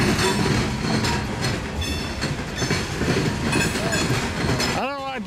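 A train rolls past close by, a loud rhythmic clatter of wheels on track, ending with a brief wheel squeal and a voice.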